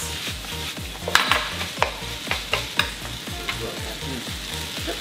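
A pilaf of shiitake mushrooms, bamboo shoots and kombu broth is stir-fried in a frying pan, with rhythmic scraping stirs and sharp utensil knocks over a constant close sizzle.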